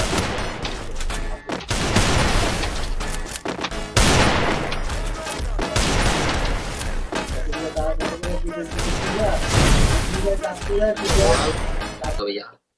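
Gunfire in the Free Fire battle royale game, dense bursts of automatic shots and rapid volleys filling the whole stretch, loud and close with brief pauses between strings.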